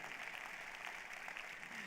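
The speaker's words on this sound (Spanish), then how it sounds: "dale un fuerte aplauso al Señor ahí por la palabra de Dios" A congregation applauding during a church sermon, a brief burst of faint, steady clapping.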